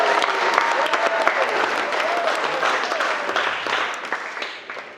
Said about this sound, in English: Come on, I think that's a round of applause.